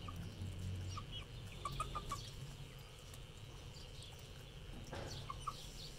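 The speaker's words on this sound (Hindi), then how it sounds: "ये देखिए मुर्गी खा रही है जी" Quiet, scattered clucks from a hen as it eats come in short bursts over a steady low rumble, fairly faint and without talking.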